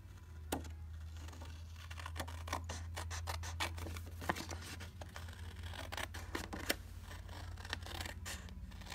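Scissors cut paper for an Easter card in a steady run of quick close snips and crisp scratchy strokes against a low constant hum, quiet and with no talk.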